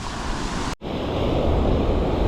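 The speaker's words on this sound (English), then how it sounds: "you can see how wild the water is today" Rough ocean surf breaks on a beach during surf fishing: a continuous, loud roar of churning waves with wind buffeting the microphone, briefly cutting out for a moment before resuming.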